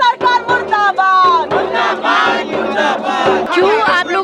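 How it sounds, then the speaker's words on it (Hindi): Protest crowd in India chanting slogans against the Modi government, many voices shouting in loud rhythmic bursts of call and response, repeated roughly every half second. "यहाँ पर लगातार जो है नारेबाजी यहाँ पर की जाएगी। मोदी सरकार मुर्दाबाद, मुर्दाबाद,"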